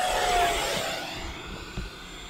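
Small RC electric ducted fan jet, a basic model without landing gear or flaps, whooshing past with a rising-then-fading whine, fairly loud and close at first, then receding.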